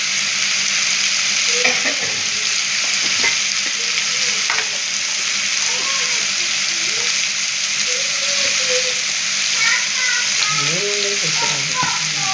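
Sambar powder and spices sauté in a pan, giving a loud, close sizzle with frequent scraping and clinking from stirring, while soft voices murmur faintly in the background.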